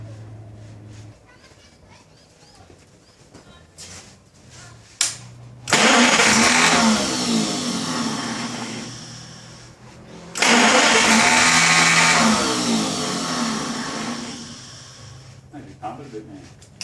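A 1933 Chevrolet fitted with a new engine cranks and catches after sitting for over 50 years, two loud bursts of cranking and running separated by a short pause, with quieter moments and people talking around them.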